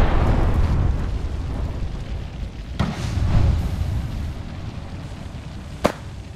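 An Arcstar grenade goes off during an Apex Legends firefight, a dense rumbling blast with crackling energy, followed by a sharp distinct pop near the end over continuous game noise.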